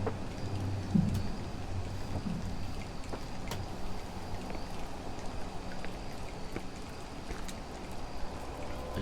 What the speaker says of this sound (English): The drip has filled up the basin.